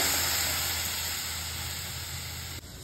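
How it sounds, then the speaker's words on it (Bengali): Water being added to a simmering pabda fish curry with mustard, a continuous steamy hiss and sizzle that stays even, then dips slightly near the end. "জল মেশানো হচ্ছে"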